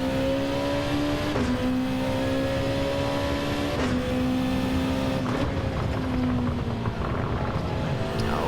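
A race car accelerating at Fuji Speedway in a racing video game, its engine droning at a steady high pitch that rises through each gear and then drops at every shift, close and continuous, with no talking.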